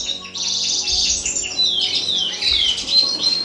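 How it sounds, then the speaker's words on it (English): Several small native finches chirping and twittering close by in an aviary, busy high-pitched calls overlapping steadily, with occasional rustling. "all my native finches, they're still in the cages"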